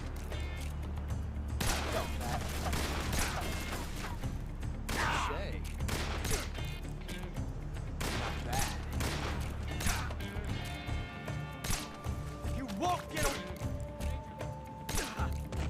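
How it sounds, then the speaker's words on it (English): Repeated gunshots in the 3DS version of Metal Gear Solid Snake Eater while fighting Ocelot, a steady series of sharp cracks over in-game music and ambience, growing more frequent toward the end. "I'm going to go into auto aim and just shoot him."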